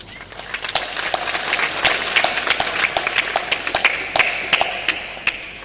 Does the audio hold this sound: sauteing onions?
no